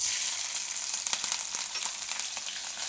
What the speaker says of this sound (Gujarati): તેલ આપણું ગરમ થઈ ગયું છે, એમાં આપણે પહેલાં નાખીશું મરચાં